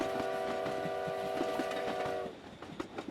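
Passing steam train sounding a sustained horn or whistle over rhythmic clickety-clack wheel beats; the tone cuts off after about two seconds, leaving the rolling rail clatter fading slightly.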